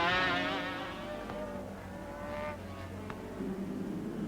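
Racing sidecar on an LCR (Louis Christian Racing) chassis at Oran Park, sliding with wheel spin; a loud engine note falls away as it passes, leaving a rough drone with brief sharp bursts.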